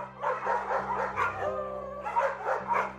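Several farm dogs bark and yelp in repeated bursts, with drawn-out howling woven between them, fairly close and loud.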